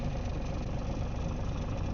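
Steady engine drone from a tractor running a brush hog mower near trees, loud and close, with a continuous low rumble throughout and no talk.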